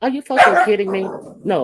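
Excited dogs barking and yipping in short bursts indoors, mixed in with a woman's loud, agitated speech.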